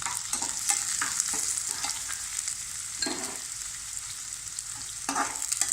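Carrots stir-frying for vegetable noodles give a steady close sizzle, with repeated scraping and stirring strokes from a spatula in the pan running throughout and no voices.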